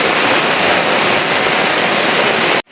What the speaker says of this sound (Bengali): অনেক জোরে বৃষ্টি হইতেছে, অনেক জোরে।